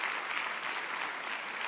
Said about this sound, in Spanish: Un aplauso para usted, querida hermana.